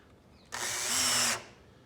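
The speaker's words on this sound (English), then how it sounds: "if I drive a screw in with a cordless drill" A cordless drill drives a screw into softwood, its motor whirring up sharply and rising in pitch for just under a second before cutting off abruptly, loud and close against a quiet room.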